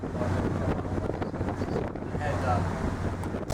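Strong, steady wind buffets the microphone on the open top deck of a tour boat on the Great Barrier Reef, a continuous roaring rush with a low engine drone underneath.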